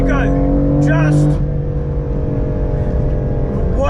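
A BMW F82 M4 with its S55 engine revs hard through third gear on a race track, a loud, steady high-rpm drone holding throughout with a brief rising whine near the start.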